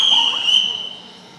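A ship's captain blows a single shrill whistle, a loud, piercing tone that holds briefly, then fades away.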